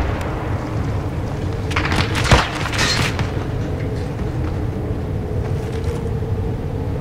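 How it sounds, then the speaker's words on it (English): A flashbang grenade detonates indoors during a team room-clearing game: one sharp, heavy bang with a brief rumbling tail, heard against a constant loud background roar. "Flashbang out, go."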